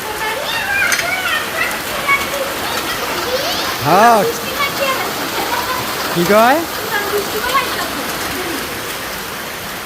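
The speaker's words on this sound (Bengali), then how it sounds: "আসলে তো অনেক অনেক বৃষ্টি হইতেছে।" Heavy rain pours down outside as a steady, broadband hiss through the whole stretch, while people talk over it close by.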